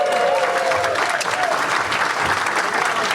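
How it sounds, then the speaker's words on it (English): Loud, close applause from an audience at a Rotary Club of Madison meeting, steady crowded clapping filling the whole short stretch with a faint murmur of voices underneath. "I'm glad you're clapping at the beginning."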